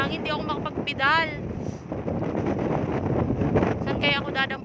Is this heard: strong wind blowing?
yes